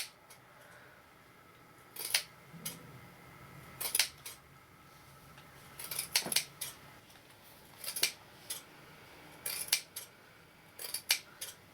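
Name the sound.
scissors snipping wool fabric into a fringe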